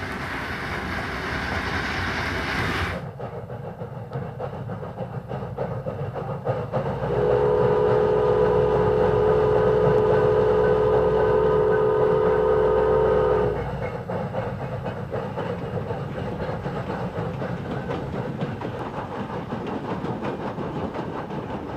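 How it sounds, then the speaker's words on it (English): A Southern Pacific cab forward locomotive rumbles past steadily at high elevation, with a long sustained horn or whistle tone sounding in the middle before fading back to the rolling rail noise. "The train passes through higher elevations now"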